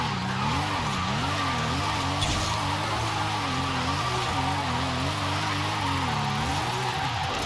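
Toyota Chaser with a 1JZ engine drifting in Forza Horizon 5, tires squealing in a long wavering skid over a steady engine drone, loud and continuous with no talking.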